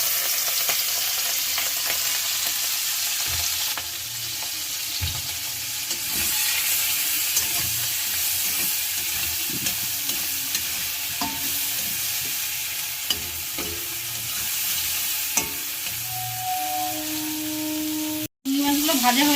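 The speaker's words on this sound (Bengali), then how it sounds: "মাছগুলো ভেজে নিলাম।" Fish frying in hot oil for a Bengali jackfruit and prawn curry, a continuous loud sizzle and hiss with occasional scrapes and knocks of a utensil against the pan.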